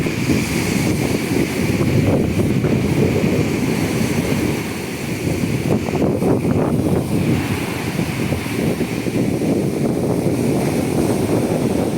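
Wind and waves of about 3 to 4 feet, whitecapped and rolling in one after another, surround a small boat at sea after a typhoon, a loud, continuous roar and rush throughout with gusty buffeting on the microphone.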